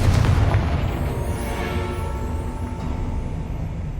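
Confringo fire spell blast in Hogwarts Legacy, a loud booming burst that rolls into a long rumbling fiery roar and slowly decays, close and heavy.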